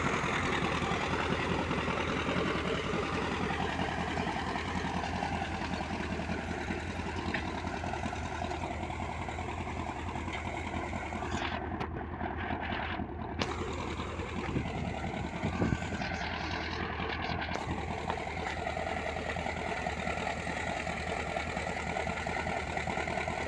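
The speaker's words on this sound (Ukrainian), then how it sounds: "Тракторець хропе." A small tractor engine's continuous low drone chugs steadily throughout, close and unchanging, with a rhythmic mechanical knock and faint fluctuations in tone, while ploughing in mustard as green manure.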